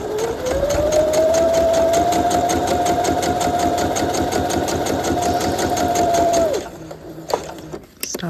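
A sewing machine stitches a welt pocket on a half-scale jacket, its steady rapid whirring run holding for about six seconds before stopping, followed by a few small clicks and handling sounds.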